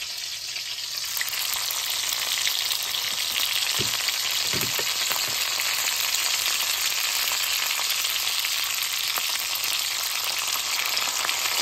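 Onion and garlic fry in a pan for a Tamil steamed egg curry, giving a steady, loud, close sizzle throughout, with a couple of brief utensil clinks near the middle.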